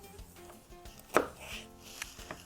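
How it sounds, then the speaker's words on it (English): A knife slices through potatoes on a cutting board to make wedges, giving a few sparse, close chopping knocks with one sharper thud standing out, no voices. "So cut them in half lengthwise, then cut them in however many wedges you like."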